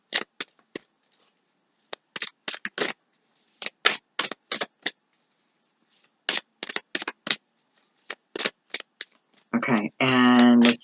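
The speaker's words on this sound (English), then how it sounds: "That might be all the shuffling I can do." Tarot cards being shuffled in short crisp bursts of riffling, spaced irregularly across a quiet room, ending with a voice speaking close by.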